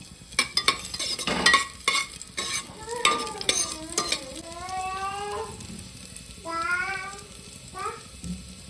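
Chopped onion, garlic and cumin frying in ghee, stirred with a utensil that scrapes the pan, giving a close, crackling sizzle broken by squeaky, rising scrapes and clatters.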